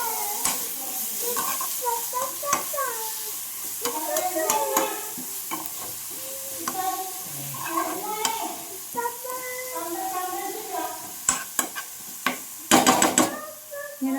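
Brinjal curry being stirred in a pan over low flame, a steady run of spoon scrapes and clicks against the pan over a soft sizzle, close and fairly loud, with a cluster of sharper knocks near the end and no talking.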